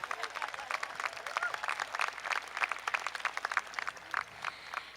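Graduation audience at Clear Brook High School clapping, a dense, steady patter of many hands from across a large hall, continuing without a break.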